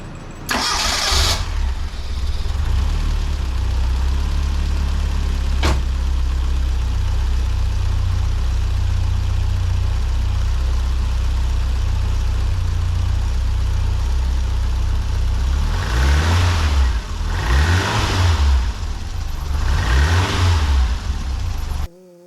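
A 1984 Bertone X1/9 engine cranks and catches, then settles into a loud, steady idle with a loose alternator belt, before a few rising revs near the end and a sudden cutoff.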